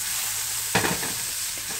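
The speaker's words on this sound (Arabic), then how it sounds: "بعد ما نضج شوي من الناحيه الثانيه الان احركه" Shrimp sizzle in a hot pan while a utensil stirs them once, a sharp scraping clatter over a constant close frying hiss.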